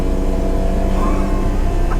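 Supercharged V6 engine of a Toyota MR2 revving at full throttle, a loud, close, sustained drone with a steady pitch and strong low rumble, with no speech.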